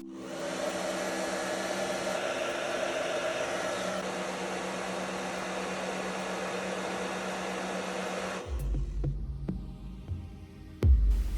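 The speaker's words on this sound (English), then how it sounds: "heat up with a hairdryer and at the same time unstick the speaker" A handheld hair dryer heats an iPhone XR during a back glass replacement to soften the adhesive under the speaker. It gives a steady, loud blowing whoosh for about eight seconds, then cuts off, leaving a low hum and a few handling clicks and knocks.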